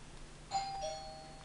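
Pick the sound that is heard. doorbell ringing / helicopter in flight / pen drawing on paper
doorbell ringing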